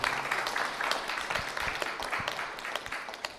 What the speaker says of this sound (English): I think it's a clap for that, yeah.